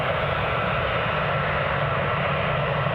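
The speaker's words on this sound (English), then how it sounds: "let's stay with this taxiing A320" An easyJet Airbus A320 taxis at Glasgow Airport, its jet engines giving a loud, steady roar with a broad rumble and hiss that stays constant throughout.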